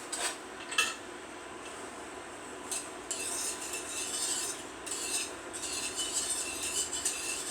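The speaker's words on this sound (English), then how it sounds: "I'm going to keep stirring this as it cools off" A spoon scrapes and stirs a beer cheese sauce in a pot set on a hot plate, a few isolated clinks at first, then continuous rhythmic scraping in close, fairly quiet bursts with no talking.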